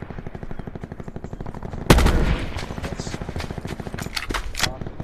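Gunfire in a video game: rapid automatic bursts crack out over a steady mechanical hum, led by one loud sharp shot followed by further staccato volleys, with faint game sounds underneath.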